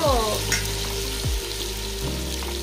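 Pieces of goat head for an Andhra-style curry fry in a hot pan, sizzling loudly and steadily, with a couple of stirring scrapes and clatters over the frying.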